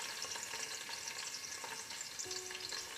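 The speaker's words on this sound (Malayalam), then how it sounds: "എണ്ണ നന്നായിട്ട് ചൂടായി വന്നിട്ടുണ്ട്. ഈ സമയം നമുക്കിതിലേക്ക് വെളുത്തുള്ളി ചേർത്ത് കൊടുക്കാം." Chopped ginger and garlic fry steadily in hot oil, giving a continuous bright sizzle with small crackling pops, close and alone.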